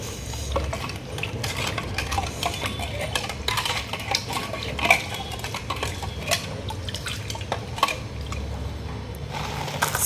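Brass and copper kitchen vessels being washed, with steady scrubbing, clinking metal and running water close by throughout, no talk.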